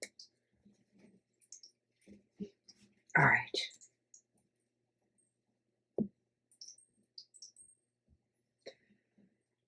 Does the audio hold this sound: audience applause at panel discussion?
no